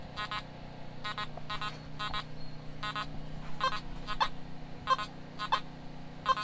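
A Nokta Simplex or Minelab X-Terra metal detector sounds repeated short, bright target chirps in quick clusters, about a dozen in all, over a low steady hum.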